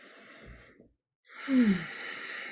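A slow, audible breath during a Tonglen meditation practice: a soft exhale, a pause of near silence, then a deeper sighing inhale and breath out, close and alone without speech.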